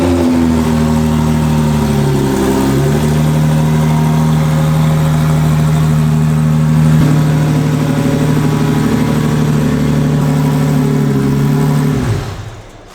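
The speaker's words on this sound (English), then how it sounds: "Let's start it up one last time." A drift car's engine idles steadily with a low, throbbing rumble, a slight rev early on, then cuts off abruptly near the end, loud and close with no talking.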